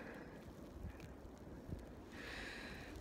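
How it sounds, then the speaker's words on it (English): Steady blizzard wind roars and buffets the microphone, a low rumbling rush with gusts rising toward the end, no one speaking. "Very, very windy, cold. It's a blizzard."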